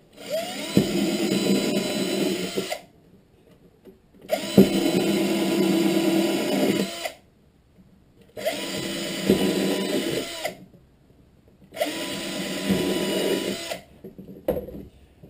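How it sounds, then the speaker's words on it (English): A power drill drills pilot holes in four separate bursts of a few seconds each, with short quiet pauses between, steady and close. "Drill pilot hole."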